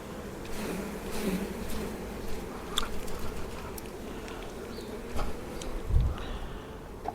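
Honeybees buzz steadily around an open hive being worked during beekeeping, a dense close hum with occasional louder passes near the listener and faint knocks from handling frames.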